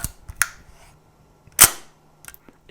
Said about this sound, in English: I will fire off one shot to waste so you can hear the sound of the shutter